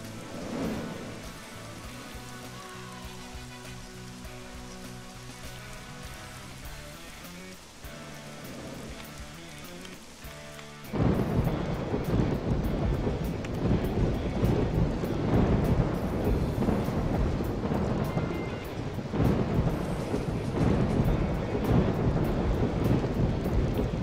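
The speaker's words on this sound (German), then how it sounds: "Oh cool, jetzt regnet es auch noch bei Nacht." Rain and thunder at night in the video game RollerCoaster Tycoon 3: fairground music plays at first, then a heavy downpour sets in suddenly and keeps a loud, dense hiss with rumbling thunder underneath.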